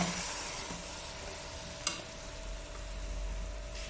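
Beef tripe drops into a hot cooking pot, giving a soft splash and a sizzling, bubbling sound with light stirring, heard close and alone without voices.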